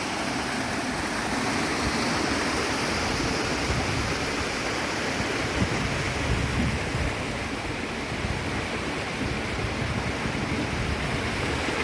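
Near the top of the Grey Mare's Tail waterfall at Moffat, Scotland, a stream pours out of a small loch or tarn with a loud, steady, close rushing roar that continues unbroken throughout, with no voices.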